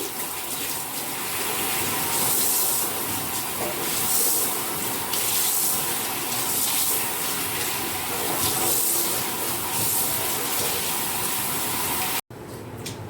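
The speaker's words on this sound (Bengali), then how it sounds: "আমি পাতাগুলো সব ভালো করে এখন ধুয়ে নেব" Tap water runs steadily into a sink as taro leaves are rinsed, a continuous gushing splash that holds for many seconds before a brief cut near the end.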